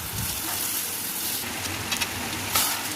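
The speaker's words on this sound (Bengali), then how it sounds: "ভালো করে কষিয়ে নিচ্ছি আমি যতক্ষণ না তেল ছাড়ছে" Parboiled goat meat frying in a pan, giving a dense, steady close sizzle with a couple of brief stirring clicks and a faint scrape near the end.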